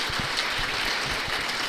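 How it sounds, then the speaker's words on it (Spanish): Church congregation clapping hard together in a steady, dense wash of applause that fills the room, loud and continuous with no voices on top. "Dale un aplauso bien fuerte al Señor"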